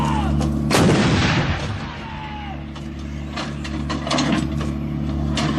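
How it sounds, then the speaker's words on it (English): An automatic artillery gun fires a burst with a heavy booming blast, followed by clanking and ratcheting of its automatic loading mechanism over a constant low mechanical drone. "The gun will now fire 3 rounds in area diamond."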